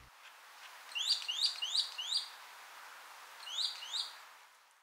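A Steller's jay gives chirpy, slurred whistled notes, a quick run of four followed by a pause and two more, clear and fairly close against a quiet background.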